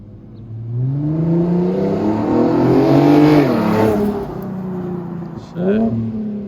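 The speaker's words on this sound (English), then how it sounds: "I like this exhaust." An Infiniti G37s engine revving through its exhaust, a loud, close, throaty rise and fall with a brief drop and a second blip near the end. People talk over it.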